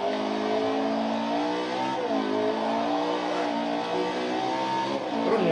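Ferrari 458 engine in the video game Gran Turismo 6, a loud continuous high-pitched V8 wail climbing and falling through repeated gear changes as the car accelerates, with no voices.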